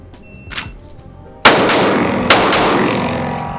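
Two loud, sharp pistol shots from a steel frame handgun fired at targets, a second apart, each with a ringing echo tail, after a few faint clicks.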